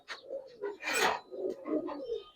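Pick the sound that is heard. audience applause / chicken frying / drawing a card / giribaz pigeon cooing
giribaz pigeon cooing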